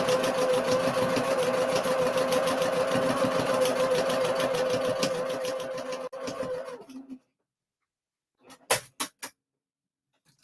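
Sewing machine running steadily for about seven seconds while fabric is stitched, with a continuous whirring motor hum and rapid needle clatter, then stopping abruptly; a few short sharp clicks follow in the quiet.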